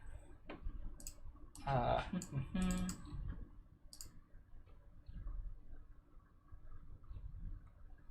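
Computer keyboard keys are pressed while someone works in a programming editor. A few short bursts of close, crisp clicks are separated by quiet stretches, with a faint murmuring voice at times.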